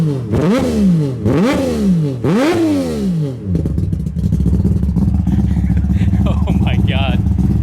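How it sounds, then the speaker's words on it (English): A 3-rotor 20B rotary engine in a Mazda RX7 revs hard three times, each sweep rising sharply and dropping back, then shifts into a loud, steady high-RPM buzz with clatter, right up close. "Would you just listen to that thing? God, that's just rotary heaven at RPM."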